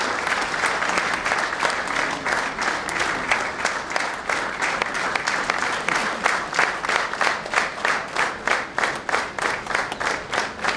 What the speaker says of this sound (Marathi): जोरदार टाळ्या होऊन जाऊ द्या आपल्या लेखिका मॅडमसाठी